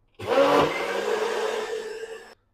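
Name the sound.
grinding dosa batter in a mixer grinder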